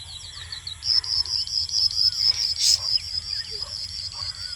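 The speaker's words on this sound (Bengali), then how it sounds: "পাখিটা কেমনভাবে আওয়াজ করছে" A steady insect-like trill and scattered chirps ring out across a grassy field on an afternoon, fairly close and continuous with no talking.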